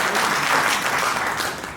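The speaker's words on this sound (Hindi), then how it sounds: "ताली बजाइए" Audience at a political gathering breaks into dense, steady applause, many hands clapping together in a sustained wash that fills the room and tapers slightly at the end.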